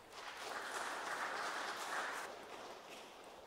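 An audience in a lecture hall applauds to welcome a speaker, a soft, steady wash of many hands clapping heard from a distance, swelling briefly and then fading.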